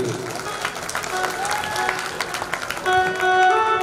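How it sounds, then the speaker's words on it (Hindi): Crowd applause at a live stage show during the Satrangi Falgun Mahotsav in Khariar Road, steady dense clapping through the whole stretch with musical tones rising beneath it toward the end. "एक बार जोरदार ताली"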